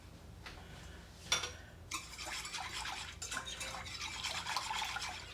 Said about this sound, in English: add our brine in